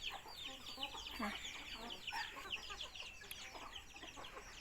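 Chickens feed on a backyard Thai vegetable plot, giving soft clucks and chirpy calls close by with a rooster-like call mixed in, over steady rustling scratching and a faint voice in the background.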